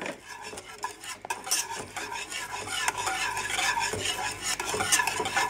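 A spoon stirs honey curd in a pan as pieces of butter melt into it, making continuous close scraping and swishing strokes with a faint sizzle beneath.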